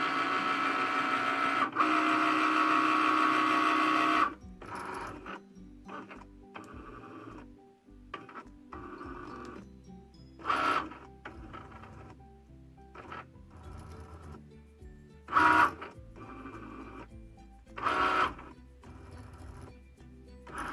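A sticker cutting machine whirs briefly, then makes a series of short mechanical whirs and clicks separated by pauses as it senses printed black lines, close up and fairly quiet.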